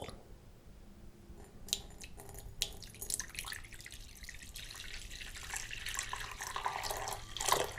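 Warm water poured into a bowl to preheat it before eating takeout ramen, a soft close trickle and splash with dripping and sloshing, gradually building and fairly quiet, no talking.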